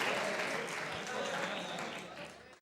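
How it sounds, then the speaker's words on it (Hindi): A studio audience at a comedy talk show claps in a dense, steady burst of applause that fades out near the end. "तालियां होनी चाहिए"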